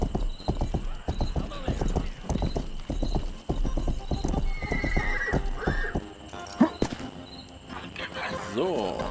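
In the video game Rustler, a horse's hooves clop in a quick steady rhythm, and a whinny rises near the end. Someone talks over the hoofbeats while faint crickets chirp in the background.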